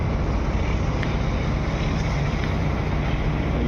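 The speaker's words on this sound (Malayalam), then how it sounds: "ഒരു വള്ളം പോകുന്നു" A traditional wooden fishing boat moving out at sea, giving a constant, dense wash of engine, wind and water noise that stays level throughout, with no voices.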